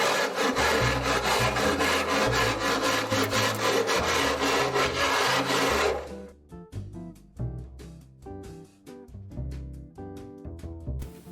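Soot being scrubbed by hand off tiki bar trim, a steady loud back-and-forth rubbing like sanding for about six seconds, then quieter, patchier scraping strokes.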